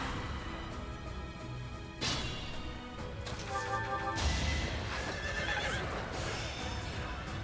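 A horse in Fire Emblem: Three Houses neighs in a loud whinny, with clip-clopping hooves and a crashing impact, all over game music and faint background speech.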